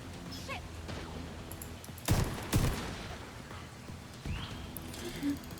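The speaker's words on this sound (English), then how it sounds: "One of the annoyances with the mortar is you can only have one shell out at a time." Mortar shells fire in a video game, producing two loud sharp thumps close together in the middle and a softer blast afterward over a low continuous game rumble.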